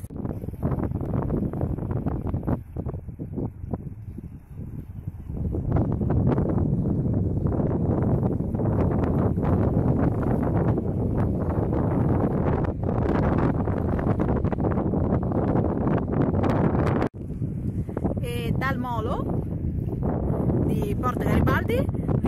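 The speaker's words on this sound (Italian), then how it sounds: "c'è tanto tanto vento, mi rendo conto non si sentirà praticamente nulla per tutto il video" Strong seaside wind at Porto Garibaldi buffets the microphone in heavy, rumbling gusts that surge louder partway through, while a person keeps talking underneath the roar.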